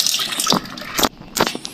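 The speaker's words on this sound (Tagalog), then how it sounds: "Diyan muna para hindi masayang at lagyan natin ng tubig." Clean water poured onto hybrid seedling trays, heard as short bursts of splashing and gushing liquid with brief pauses between pours, fairly close and with no talk.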